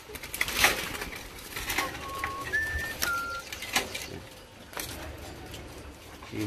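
Pigeons or doves at a dove farm in Ba Vi, Hanoi, giving a few soft calls and short whistled notes over a noisy farm background with scattered knocks and rustling.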